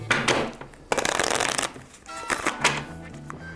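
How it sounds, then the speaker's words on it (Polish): Deck of playing cards shuffled by hand during a card trick, a quick riffling flutter followed by a longer burst of rapid card slaps and a few softer taps, close by, with a voice faintly in the background. "Składamy karty. Tasujemy."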